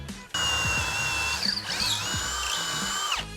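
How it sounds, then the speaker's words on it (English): A power drill with a 1/4-inch bit bores a pilot hole for a 3/8 lag bolt while a barn door is installed, a steady close whine with a slight pitch dip midway, starting abruptly and stopping at the end. "you may be using a 1/4-inch drill bit for this part"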